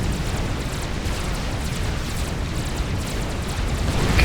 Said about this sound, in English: But in comes the nuke, and it's gonna get through.